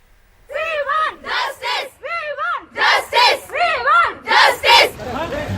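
A crowd gathered outside a college in Belagavi in support of hijab, chanting slogans in loud, rhythmic call-and-response bursts with short pauses between them, close by.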